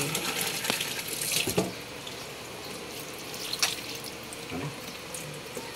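Water poured into a pot of coconut milk while cooking ginataang kamansi, a steady trickling and splashing close by, with a few brief louder splashes and no talking.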